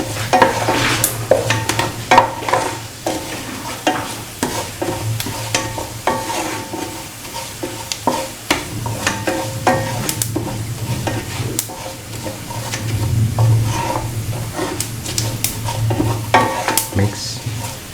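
A dates pickle mixture with turmeric powder being stirred in a hot pan, a steady sizzle under repeated scraping and clinking strokes of the spoon, close and continuous.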